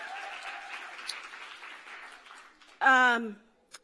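Audience applause at the She the People Summit, a political gathering, fills a hall at moderate, steady volume for nearly three seconds, then gives way to a short, louder vocal burst before fading.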